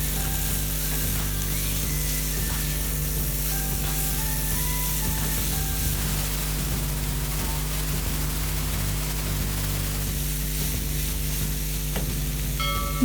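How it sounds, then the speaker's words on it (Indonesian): Tangkil skin sambal sizzles steadily as it is stirred and fried in a pan, with continuous crackling hiss and occasional scraping of the utensil, and no voices. "Aduk-aduk sampai rata bumbunya"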